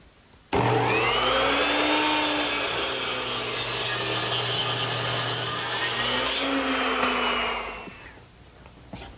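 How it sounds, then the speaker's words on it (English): Miter saw set to 45 degrees cutting a wooden rafter against a stop block: the motor spins up abruptly, then a loud, steady whine with the blade biting through wood for about eight seconds before it spins down. "to make the cut at the ridge, I've turned my miter saw to 45 degrees and installed a stop block for the correct length"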